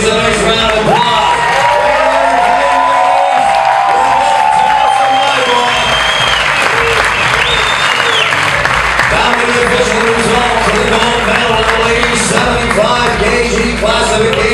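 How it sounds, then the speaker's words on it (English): Applause and cheering rise from a crowd after a 2012 women's amateur boxing bout between two female boxers at Cape Breton, a steady loud roar with whoops, while an announcer speaks over it. "let's give these two ladies a nice round of applause"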